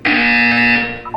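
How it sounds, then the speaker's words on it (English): A loud, steady electronic buzzer from the video game Portal 2 sounds once for about a second, harsh and tonal, alone with nothing else over it. "You will hear a buzzer."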